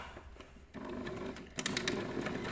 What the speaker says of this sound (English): we line up the etch on our presser foot with that seam and we stitch in the ditch